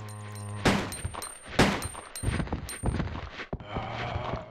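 Gunshots ring out in the Resident Evil 2 video game, several sharp loud reports spaced about half a second apart over game ambience and clinks, with no talking.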